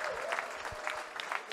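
Audience applauding a semi-final at the French Elite Championship 2023, a brief burst of scattered clapping with a few sharper individual claps standing out.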